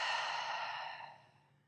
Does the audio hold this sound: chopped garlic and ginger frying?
no